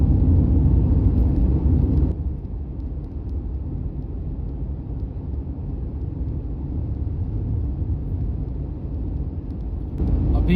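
Steady, heavy road rumble from a car cruising and overtaking on a multi-lane highway between Varanasi and Delhi, a dense continuous drone that softens slightly in the middle before rising again.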